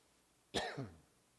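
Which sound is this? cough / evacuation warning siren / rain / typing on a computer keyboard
cough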